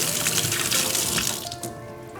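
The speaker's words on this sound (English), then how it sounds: "so let me rinse my fingers a little bit." Water runs steadily from a kitchen tap as fingers are rinsed beneath it, a close hissing splash with small changes as the hands move through the stream, tapering slightly toward the end.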